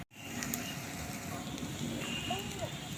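Spices fry in a pan for vegetable chops, giving a continuous soft sizzle and crackle close by, faint and steady throughout.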